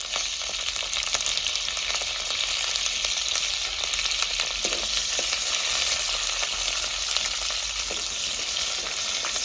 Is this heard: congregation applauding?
no